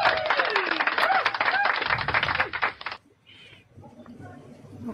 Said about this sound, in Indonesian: tepuk tangan buat Buning